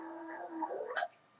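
A Chihuahua howls and whines in a short rising, wavering cry that climbs in pitch toward the end, close and fairly quiet, sounding like it is trying to sing along.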